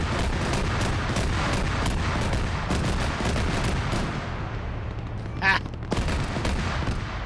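In a tank combat video game, a flanking rocket and rapid vehicle gunfire crack out in dense repeated bursts, with a sharper whooshing rocket hit near the end amid loud battle noise.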